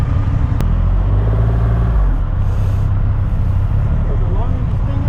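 A 2020 Triumph Rocket 3 GT, 2,500 cc triple-cylinder motorcycle, rumbles loudly and steadily at close range with a deep low throb, idling and revving lightly.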